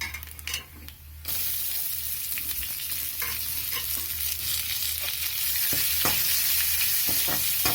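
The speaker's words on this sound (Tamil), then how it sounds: "வானலியில் எண்ணெயை விட்டு கடுகு, உளுந்தம்பருப்பு, கடலைப்பருப்பு இல்லைன்னா பாசிப்பருப்பு, ஒரு வெங்காயம், 2 பச்சை மிளகா எல்லாத்தையும் போட்டு நல்லா தாளித்து" Mustard seeds, urad and chana or moong dal, onion and two green chillies tempering in hot oil in a pan, a loud, steady sizzle and crackle with scattered pops that swells after a brief quieter start.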